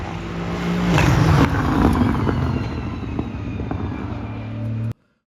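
An Aston Martin Vantage GT3 Evo V8 race car in a sim racing game roars loudly and continuously, shifting pitch through gear changes, then cuts off abruptly near the end.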